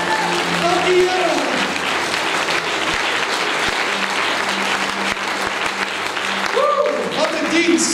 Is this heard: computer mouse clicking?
no